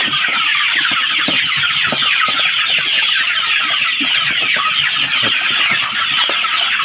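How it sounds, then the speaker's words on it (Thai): A flock of Thai black-tailed Pradu Hang Dam chickens on a village farm clucks continuously, many birds close together in a busy, dense chatter with scattered sharper calls. "เสียงไก่"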